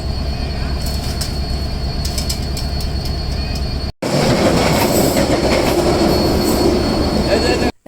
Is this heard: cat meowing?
no